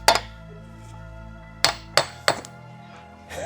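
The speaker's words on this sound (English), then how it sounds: "hammer hammering it out." A few sharp metallic hammer blows ring out while hammering a CV axle out of a 2016–2022 Honda HR-V spindle, one near the start and three more in quick succession later, each clanging and fading.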